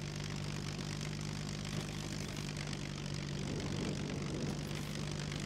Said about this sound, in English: So next we're going to land at the gas station at the big city.